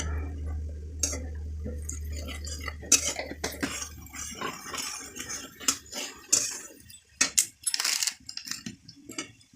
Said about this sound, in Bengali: ভালো করে নাড়াচাড়া করছি আমি এখন